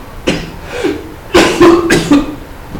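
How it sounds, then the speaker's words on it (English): A series of harsh, throaty coughs, a couple of isolated ones followed by a cluster of loud, rapid hacks close to the microphone. "Sorry, I had a coughing fit."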